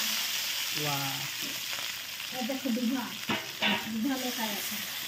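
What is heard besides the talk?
fish frying in hot mustard oil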